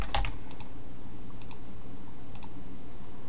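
Light, sparse key clicks on a computer keyboard come in small clusters, a few taps at a time with short pauses between, over a low room hum.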